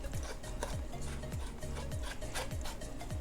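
A Philips WiFi smart LED white bulb is twisted into a lamp socket wired straight to a cable. The close, steady scraping and rubbing of threads repeats in regular twisting strokes, with no talking.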